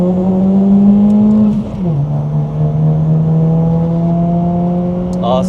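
A stage 3 tuned VW Scirocco GT with a 1.4 TSI engine pulls hard under load. A loud, steady engine drone dips briefly at a gear change and then climbs again through the rest of the run.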